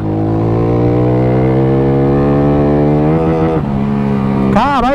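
A Fortuna motorcycle engine revs up in a long, steadily climbing whine, then drops sharply as the rider downshifts, followed by a quick burst of wavering blips near the end; loud and close.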